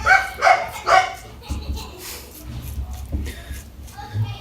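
Several dogs bark in quick bursts outdoors while kids exercise them, three sharp barks up front followed by shuffling, scattered yips and whimpers, with faint voices in the background.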